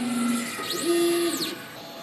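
A DTF printer runs a nozzle check, giving a soft mechanical hum with short tonal whirs and a sweeping carriage sound, close and moderately quiet.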